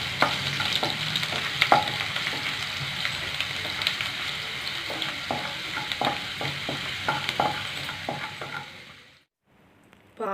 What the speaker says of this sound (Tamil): இப்போ பூண்டு சேர்த்துக்கலாங்க. லைட்டாக கொஞ்சம் வதக்கி வைக்கிறேன்.